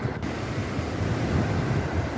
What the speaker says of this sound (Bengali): আর এটা হচ্ছে তাজপুর সমুদ্র সৈকত